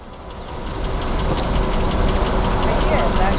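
A car engine held at low revs while the driver controls speed with the clutch, a steady droning hum that swells slightly and stays constant throughout.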